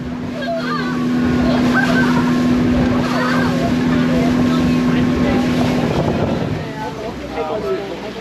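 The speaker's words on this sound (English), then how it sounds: "the boat suddenly started to accelerate, and we were now driving along at turbo speed" A motorboat engine roars loud and steady as the boat speeds at full throttle over water near Tai O, Hong Kong, with wind buffeting the microphone, then eases slightly at the end.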